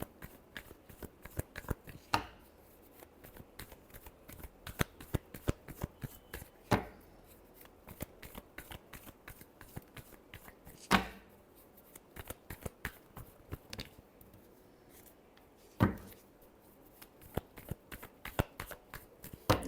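Tarot cards are shuffled by hand in quick, soft riffling clicks and flutters, with sharper slaps every few seconds, close and fairly quiet, with no talking.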